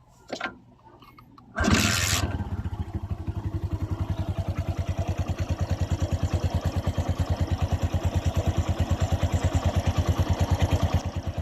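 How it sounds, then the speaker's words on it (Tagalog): A Kawasaki Bajaj CT 100 motorcycle, freshly overhauled, fires up after a brief starter sound and settles into a steady, rapid single-cylinder putter, loud and close, with no talking. "kailangan iparinig ko muna ang tunog sa inyong makina pagkatapos natin siyang overhaul"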